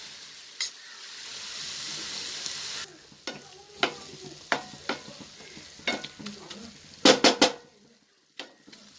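Banana flower stir fry cooking in a pan: a steady sizzle at first, then a series of sharp scraping and stirring clacks of a utensil against the pan, close and fairly loud, with no talk.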